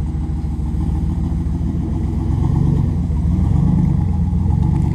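A turbocharged 5.2L Dodge Ram truck engine with a new clutch rumbles steadily and loudly close by while driving slowly, its low drone rising slightly in the second half.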